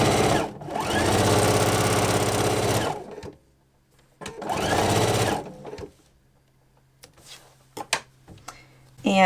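A sewing machine runs in two long, loud bursts as it stitches a quilt seam, with a steady mechanical whir, then a pause and some faint clicks and handling noises near the end.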